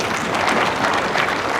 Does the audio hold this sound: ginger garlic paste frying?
no